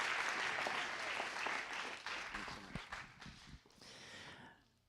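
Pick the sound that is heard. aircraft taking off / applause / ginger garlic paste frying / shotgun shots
applause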